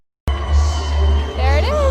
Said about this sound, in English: Oh, I hear the crowd, so there.